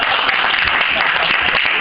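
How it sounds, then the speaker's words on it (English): Audience clapping at a short-film screening night, a steady dense wash of applause filling the whole stretch without pause, fairly loud and close. "Give him a clap, go on."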